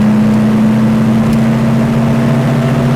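A Porsche 911 or 912 with a Racing H 901/902 transmission is driven hard through the gears. The engine holds a loud, steady, close drone with no break for the shift.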